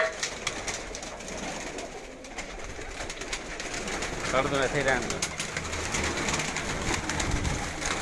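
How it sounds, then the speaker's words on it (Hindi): Teddy pigeons cooing softly in a loft, the low coos rising in the second half beneath people talking nearby. "ਇਹ ਉਹ ਟੈਡੀ ਕਬੂਤਰ ਨੇ।"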